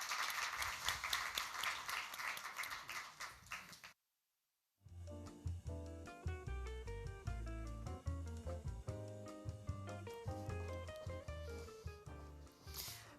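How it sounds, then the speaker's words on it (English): Applause from an audience at a security forum closing a debate on strategic communication: dense, even clapping for about four seconds, then a short silence and loud music. "join me in applause"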